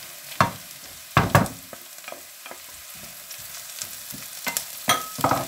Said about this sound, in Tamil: இனி இந்த பீன்ஸை போடுவோம்